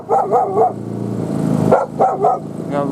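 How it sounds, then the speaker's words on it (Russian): A frightened dog in the taiga barks in sharp close bursts, a pair of yelps, a pause with low growling, then more loud barks, with no talking. "Собака напугалась"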